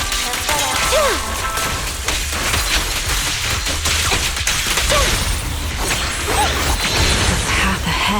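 Suppressing gunfire in the video game Zenless Zone Zero: loud, dense bursts of shots and impacts crash continuously with whooshing effects, close and forceful throughout.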